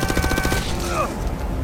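Gunfire in a zombie action film as two guards open fire: a rapid volley of sharp shots in the first half-second, then fading into a quieter rumble and background score.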